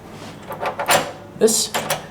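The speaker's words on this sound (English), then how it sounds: "This latch seems to get stuck pretty often as well." In a Courtyard Marriott hotel room, a sticking door latch is worked back and forth. It gives several short rattling clacks and scraping knocks, close by.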